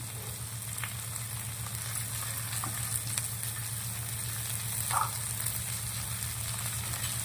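Mung beans and onion sizzle steadily in a hot pan, a constant close frying hiss with a few faint clinks and taps now and then.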